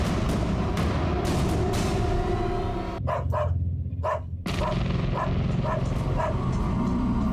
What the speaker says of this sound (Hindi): जिमी भौंक रहा है